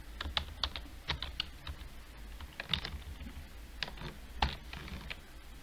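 Keys clatter on a computer keyboard in quick, irregular bursts with short pauses, close and moderately quiet, with no voices.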